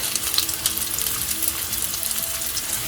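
Bengali dhokas, fried lentil cakes, crackle in a pan as they are turned over, a steady bright sizzle with small pops and spatters, no talking.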